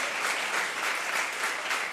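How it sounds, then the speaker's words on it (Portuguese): A church congregation applauds the elderly members, a dense, steady wash of many hands clapping at moderate volume throughout, with no voices standing out. "Vamos dar um aplauso aí para essa melhor idade,"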